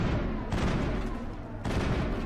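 Heavy gunfire in a Mass Effect firefight, a dense loud barrage of overlapping shots that dips briefly and then surges again, with no voices over it.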